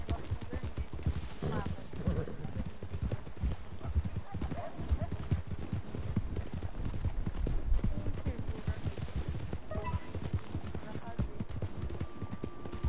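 Horse hooves clip-clopping steadily in the video game Red Dead Redemption, under continuous background noise, with people talking over the trotting throughout.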